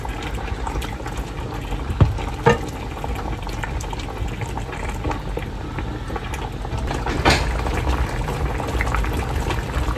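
Stew with onions boiling in a pot, a steady bubbling and churning of liquid at close range with a few small knocks and a louder bubbling swell near the end.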